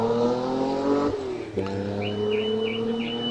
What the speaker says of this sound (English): Fraser Nash TT Replica. 2 litres.